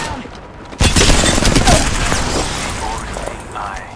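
Bursts of gunfire in the Apex Legends battle royale game, a loud volley erupting suddenly and continuing in rapid shots before tapering, with game voice chatter mixed in.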